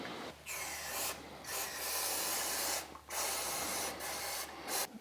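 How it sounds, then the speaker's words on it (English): Bursts of brake cleaner aerosol spray hiss loudly and close on a car's brake rotor, several long sprays separated by short pauses. "spray this with brake cleaner"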